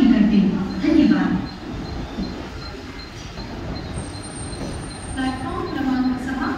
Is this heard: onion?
no